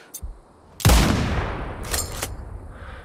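Turret gunfire in the Sniper Ghost Warrior Contracts 2 video game: a few faint clicks, then one sharp loud blast with a lingering rumble and two later bursts, close and punchy.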